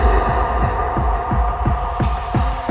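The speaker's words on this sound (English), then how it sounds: "This is a square wave. It's very square on the picture, and it's perhaps rather harsh to listen to." An electronic square wave tone sounds harsh and buzzy, holding steady while a low throbbing pulse repeats at an even rhythm underneath, loud and close with nothing else present.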